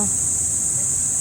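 Crickets or cicadas in Arroceros Forest Park, Manila, give off a continuous high, piercing drone that holds steady throughout, with faint low background rumble beneath.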